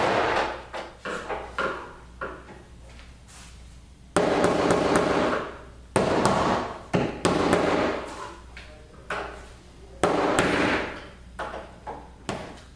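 A rubber mallet taps a hinge on a Charleston Cherry piece, delivering bursts of sharp wooden knocks in uneven clusters with brief pauses between, close and fairly loud.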